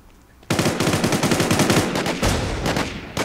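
Rapid automatic gunfire during a shootout in the video game War Inc. Battlezone: a loud, dense stream of bursts starting abruptly after a short quiet moment and continuing without letup, with brief pauses between volleys.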